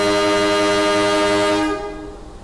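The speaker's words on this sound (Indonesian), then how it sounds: "kita bertemu dengan kereta lain, yaitu kereta api Logawa dari stasiun Jember tujuan stasiun Purwokerto" Loud, sustained multi-tone horn from the Logawa passenger train, running from Jember to Purwokerto, blares steadily for about a second and a half as the train passes, then cuts off, leaving fading rumble behind.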